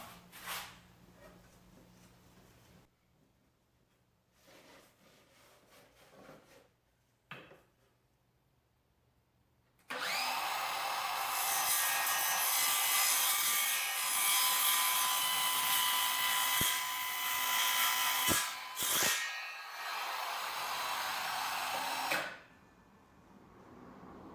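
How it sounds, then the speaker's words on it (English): A small, quiet power saw with a blade brake cutting wood: after quieter handling noises, a continuous loud whirring cut runs for about twelve seconds, then stops abruptly. "This is a nice little saw. Runs good and quiet"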